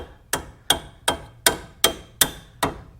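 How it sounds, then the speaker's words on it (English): A hammer strikes a Mazda 3 suspension part back into place: seven sharp, close metallic taps at a steady, even rhythm, with no talking. "take our hammer"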